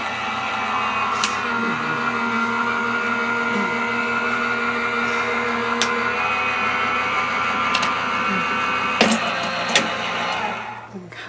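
A hand-cranked die cutting machine pressing paper through its rollers makes a steady grinding, rumbling drone with occasional clicks and thumps, continuous and close throughout.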